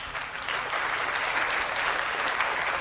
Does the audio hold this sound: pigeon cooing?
no